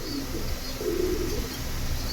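Silver-colored pigeons coo softly at close range, a low murmuring call rising briefly in the middle over a steady background hum, with no voices.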